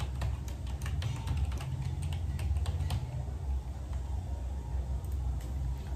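A password being typed on a computer keyboard: a quick run of crisp key clicks for about three seconds, then a few scattered taps, over a constant low background hum.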